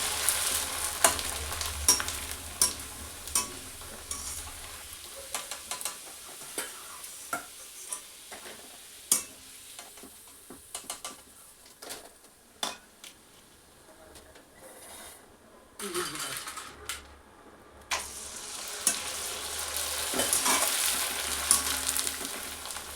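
Rice and sago sandige fry in hot oil with a steady hiss and sizzle, broken by frequent scraping and stirring clicks up close, and a fuller burst of frying near the end.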